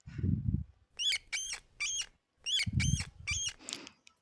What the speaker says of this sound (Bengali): ইঁদুরের ডাককে বাংলায় বলে চিকচিক।